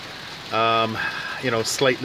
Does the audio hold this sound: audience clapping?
no